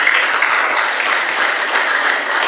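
Audience applause during an Ethiopian Orthodox church sermon: dense, steady clapping from many hands that fills the whole stretch at an even loudness.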